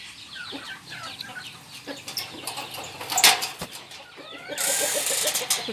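Fighting roosters and hens cluck and squawk nearby in irregular bursts, with occasional sharp calls and a flurry of wing flapping toward the end.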